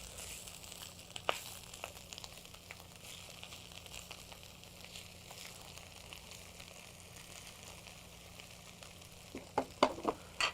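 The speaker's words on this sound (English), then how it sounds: "You can start to see our kale is starting to cook down just a little bit." Kale cooking down in a pan over very low heat in an Indian kitchen, giving a steady, quiet sizzle and crackle throughout with a few sharper pops near the end and no talking.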